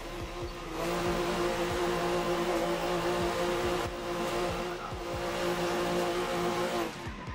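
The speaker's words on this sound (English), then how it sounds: "Just keep drifting for hours." An Assetto Corsa car drifts on track, its engine holding a steady high-revving drone while the tires squeal continuously, loud and close, fading briefly near the end.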